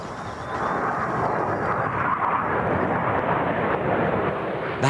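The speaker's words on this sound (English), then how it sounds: "The line passes RAF Coltishall, from where tornado jets make regular sorties." A Tornado jet flies near RAF Coltishall, heard as a broad, continuous roar that swells slightly and holds steady at moderate distance.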